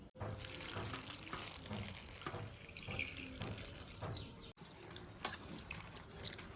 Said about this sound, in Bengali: আমি লঙ্কাগুলো একটু ধুয়ে নিচ্ছি